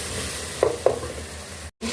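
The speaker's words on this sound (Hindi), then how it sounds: "2 से 3 मिनट को सारा मसाला अच्छे से भून लेंगे" Black pepper, turmeric and salt dry-roasting in a pan, a soft hissing sizzle with two quick scraping stirs, then a brief cutoff before the sizzle resumes.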